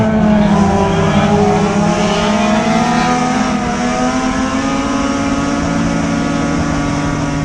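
Race cars at Deep South Speedway roar past in a dense, continuous pack, engines droning loud and close with sustained high revving and no pauses.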